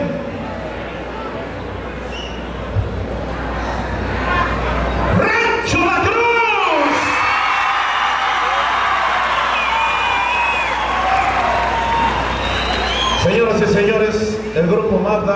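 Spectators at a bull-riding tournament clap, cheer and whoop, the noise swelling into a loud sustained roar midway and holding strong, with shouted voices mixed in among the crowd.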